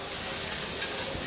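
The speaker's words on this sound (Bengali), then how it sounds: "এগুলা এর সাথে একটু ভেজে নিব।" Cardamom, cumin, cloves, cinnamon pieces and bay leaves fry in oil for chicken vegetable biryani, a dense, even hiss of sizzling that stays steady and close throughout.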